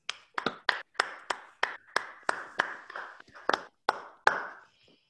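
Sparse clapping over an online call after an academic graph-drawing talk, about a dozen distinct sharp claps in a loose, uneven rhythm, close-miked and separated by silence.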